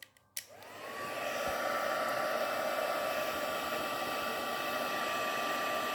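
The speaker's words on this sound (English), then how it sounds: "So now I'm going to bring the heat gun in. So it's going to be a little bit of noise." A heat gun clicks on and then blows a steady, loud hiss of hot air, with a thin whine running under it for several seconds, used in a watercolour craft project.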